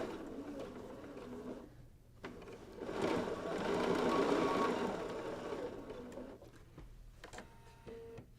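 A sewing machine stitching wide chunky binding onto a quilt, a steady soft mechanical whir that swells and runs continuously for several seconds, fairly faint and with no talking.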